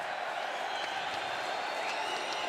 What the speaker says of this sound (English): Crowd wanting a penalty, nothing coming.